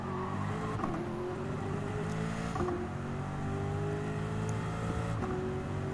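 A race car in Gran Turismo 7 revs hard through its gears, with loud, close engine tones that drop in pitch at each upshift and sharp exhaust pops as the gears change.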